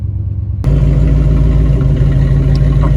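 A truck engine abruptly becomes loud and close after a brief quiet start, then holds a steady, deep idle with a rumbling, evenly pulsing note and faint mechanical clatter.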